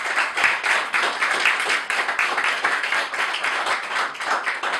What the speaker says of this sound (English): Please give a round of applause for Sister Laura Clarke.